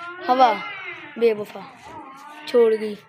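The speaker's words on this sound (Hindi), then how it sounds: "ये बिल्ली की आवाज कौन सी है?" Three drawn-out, plaintive meow-like wails come close by, each rising then falling, with short pauses between them.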